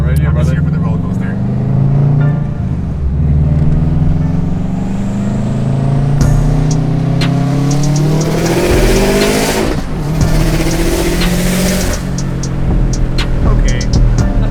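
A 400+ hp Subaru GR-WRX accelerates hard, its engine rising loud and close through repeated climbing gear pulls inside the car, with people talking over it.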